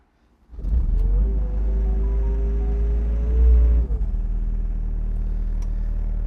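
A 2017 Doosan DX55-5K mini excavator with about 9,700 hours cranks and its diesel engine fires, then settles into a steady, loud, close idle with a brief rev surge partway through, no voices.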